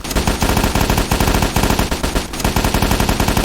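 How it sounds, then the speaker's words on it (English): A shotgun fires in the Garry's Mod video game in rapid, dense, loud blasts that repeat continuously with no pauses, without any talking. "This is one of my favorite shotguns."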